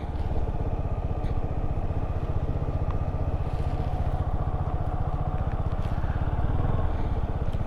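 A motorcycle rides a cone weave in a parking lot, its engine a steady low, rumbling drone with a rapid pulsing beat that stays even throughout at moderate loudness.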